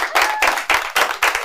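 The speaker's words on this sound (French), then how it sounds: "On applaudit Vanessa." Audience at a live show applauding a performer, a few short bursts of clapping in steady pulses, fairly close and loud.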